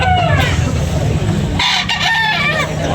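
A rooster crows loudly and close at a gamefowl market in Carbon, Cebu, with clucking and other fowl calls around it and a faint voice in the background.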